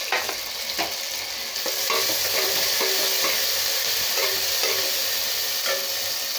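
Tomato, coriander and curry leaves sauté in a pan for mutton kuzhambu: a loud, steady sizzle and hiss with intermittent scraping stirs, heard up close with no talking.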